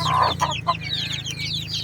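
Jolohano, or Basilan, chickens clucking close by in a backyard flock, several overlapping short calls over a steady low hum, no voices.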